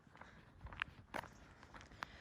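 Footsteps of someone walking outdoors along a quiet residential street, a handful of soft, irregular steps close by against faint background hiss, with no talking.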